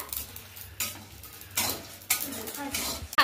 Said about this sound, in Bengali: এইগুলোকে দেখুন হালকা করে কিন্তু ভাজলেই দেখবেন ফুটতে লেগেছে, চনমনে ভাবে ফুটলেই কিন্তু হয়ে যাবে আমার এইটা